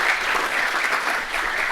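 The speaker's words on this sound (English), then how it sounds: "Let's give a big round of applause." Dense, sustained applause from a lecture hall audience after a visiting artist's talk, a full even wash of clapping with no pauses.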